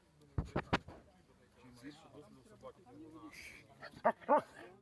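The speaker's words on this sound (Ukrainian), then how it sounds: "побувала на тренуванні службових собак Національної гвардії" A National Guard service dog at training barks in a quick cluster of sharp barks near the start and again near the end, with quieter whimpers and other sounds between.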